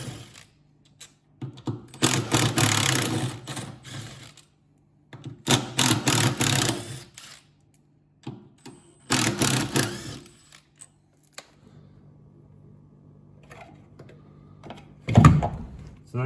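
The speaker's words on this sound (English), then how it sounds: "We have to undo these 4 bolts, pull that off, and then we can unplug it." A socket wrench undoing four 10 mm bolts on a washing machine motor during a bearing replacement, heard as several bursts of quick ratcheting clicks separated by pauses, with a louder knock near the end.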